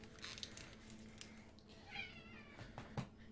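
A pet cat named Kiwi meows repeatedly indoors, several drawn-out, wavering calls that are faint and somewhat distant over a low background hum.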